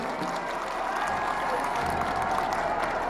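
Sustained applause from a large audience at an Independence Day award ceremony in Leh, Ladakh, a steady dense wash of clapping throughout with some crowd noise.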